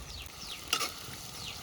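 Ginger garlic paste frying in a pan with curry leaves for a Telangana goat head curry, a soft steady sizzle under brief scraping stirs and a louder clatter near the middle.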